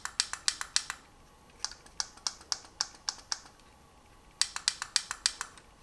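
Buttons on a Lutron Caseta smart dimmer switch are pressed in three quick clusters of sharp, light plastic clicks, close up and fairly quiet, with no other sound around them.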